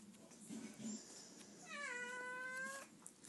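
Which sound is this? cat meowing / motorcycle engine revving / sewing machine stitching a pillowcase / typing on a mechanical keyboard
cat meowing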